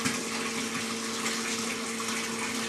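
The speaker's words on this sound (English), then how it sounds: "the water flows out of the test section through the clear tubing and then back into the tank" Water running steadily through clear tubing on a pipe-flow pressure-drop test rig, returning to a tank; a continuous rushing, gushing flow with a steady pump-like hum underneath, close and even throughout, with no talking.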